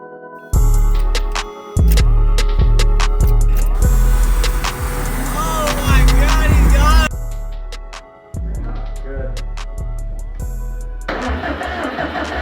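A built Subaru STI engine with a 20G turbo, its spark plugs out, cranks over to build oil pressure: loud rhythmic starter churning in repeated bursts with brief pauses between them.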